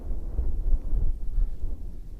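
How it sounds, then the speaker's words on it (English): Wind blowing through a desert wadi, a low rumbling buffet of gusts against the microphone, steady and close with no other sounds. "The wind is coming from that direction"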